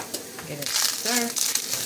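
Seasoned meat sizzles in a frying pan as it is stirred, with scraping and clinking of the utensil against the pan, brief and close, with a voice speaking over it.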